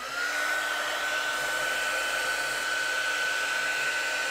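Electric embossing heat tool blowing hot air over embossing powder on stamped inks, a steady loud whirring hum with a constant whine throughout, heard alone.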